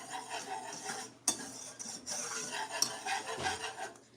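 Flour is whisked into gravy in a pan, making a steady scratchy, rasping whir of a whisk against metal, with a couple of sharper taps, close and continuous without talk.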